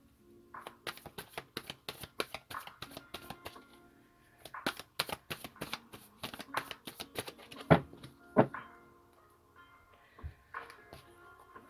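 Tarot cards shuffled by hand in a run of quick, crisp riffling slaps and flutters, close and moderately loud, with brief pauses between bursts and no talking.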